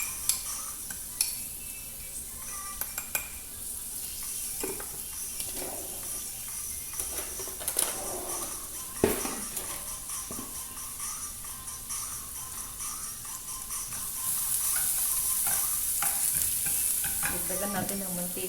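Onion and garlic sautéing in oil in a pan while cooking pancit canton, a soft continuous sizzle punctuated by scraping stirs and clinks of a utensil, with the sizzle growing louder near the end.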